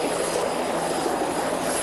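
A helicopter in flight on a 1987 treasure hunt over Wiltshire and Avon, a loud steady broadband roar of engine and rotor heard from close by, continuous and without talk.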